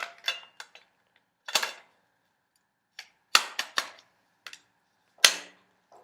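Metallic clicks and sliding clacks as shotgun parts, barrel and end cap, are slid and fitted back together, in scattered sharp bursts separated by quiet gaps.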